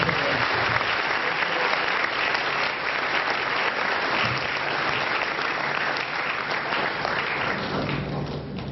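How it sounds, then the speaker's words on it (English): Sustained applause from a lecture audience greeting the U.S. ambassador, a dense, steady wash of many hands clapping at even loudness throughout, with no break. "join me to give a big round of applause to Mr. Ambassador"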